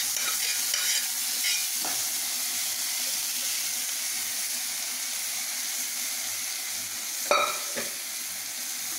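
Horse gram tossed into a pan with dried chillies and curry leaves for a banana stem stir-fry, a steady close sizzle with occasional sharp spatula knocks and stirring scrapes.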